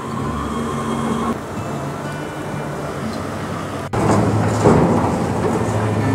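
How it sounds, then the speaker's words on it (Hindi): Steady rain pours outdoors with a low rumble of thunder, and around the four-second mark the downpour swells louder and heavier, filling the scene continuously with no voices. "बारिश शुरू हो गई है जी, अल्लाह की रहमत शुरू हो गई है।"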